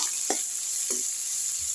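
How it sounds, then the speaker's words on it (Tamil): Steady hiss of food frying in a hot pan, with a couple of brief scraping stirs. "நல்லா வதங்கட்டும்"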